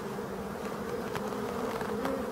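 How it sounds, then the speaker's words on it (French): A bumblebee buzzes as it flies out of a hive in a forest, a steady close drone under a continuous hum of many other bees. "On peut voir en plein milieu, paf, un bourdon là qui s'envole."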